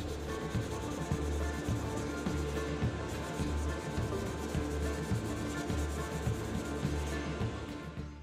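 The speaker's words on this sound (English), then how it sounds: "took out some 3000 grit and started sanding that primer layer very smooth" Fine 3000-grit sandpaper rubs over the primer layer of a 2006 Shelby Mustang GT-H scale model car. Close, steady back-and-forth scratchy strokes repeat rhythmically throughout with no voices.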